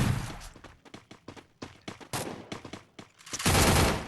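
Gunfire in the Free Fire mobile shooter game in clash squad first-person mode, rapid bursts of sharp shots in quick succession, loud and close, with a denser sustained volley at the end.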